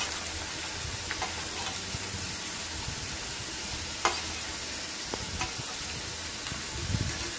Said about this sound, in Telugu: ఇప్పుడు తురిమి పెట్టుకున్న బీట్రూట్ వేసి దీన్ని కూడా ఒక 5 నిమిషాలు అయితే ఫ్రై చేసుకోవాలి.